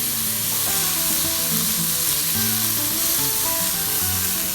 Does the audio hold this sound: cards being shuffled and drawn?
no